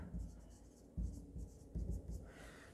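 Pen scratching across a journal page while a furniture account entry is written, in short strokes with brief pauses, quiet and close.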